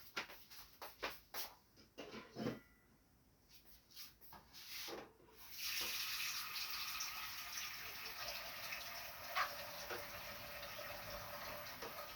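Steady broadband rush of tap water running into a pot for borscht begins partway through and continues to the end, preceded by a few clattering knocks and rubbing sounds.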